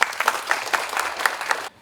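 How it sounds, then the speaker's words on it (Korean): Brief applause from an audience at an academic symposium on the independence movement, welcoming a presenter, with several distinct claps standing out before it cuts off to near silence. "큰 박수로 청해볼게요."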